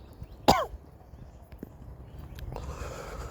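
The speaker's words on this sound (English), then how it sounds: "Still got this fucking cough" A single sharp cough close by, followed by faint rustling and quiet background noise.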